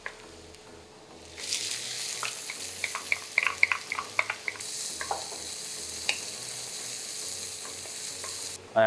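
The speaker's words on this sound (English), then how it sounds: "once the oil is hot, I'm going to add the cummins" Cumin seeds hit hot cooking oil for a bhindi masala and break into a steady, close sizzle, with scattered clicks and scrapes of stirring throughout and no talk.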